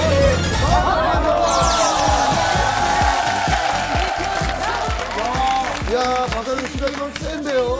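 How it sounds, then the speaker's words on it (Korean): Studio audience at a Korean television talk show clapping and cheering loudly, with whoops and shouts riding over the applause as voices chatter through it and the noise stays strong throughout. "박수"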